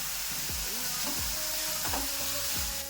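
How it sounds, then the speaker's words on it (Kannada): Green chilies, ginger and onion fry in a pan for vada pav with a constant close hiss of sizzling oil, while a spoon stirs in steady scraping strokes about twice a second. "ಇದನ್ನೊಂಚೂರು ಫ್ರೈ ಮಾಡ್ಕೊಳ್ಳೋಣ"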